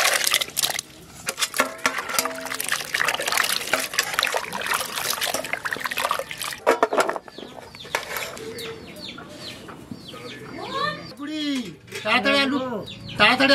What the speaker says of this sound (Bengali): একটু ধুয়ে নিচ্ছি।